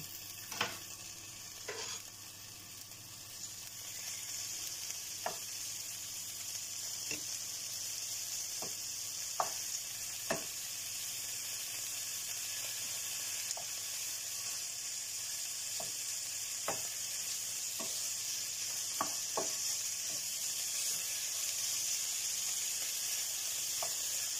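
100 grams of bacon lardons fry in a hot pan for a quiche Lorraine, with a continuous close sizzle and occasional sharp clicks from stirring, no voices.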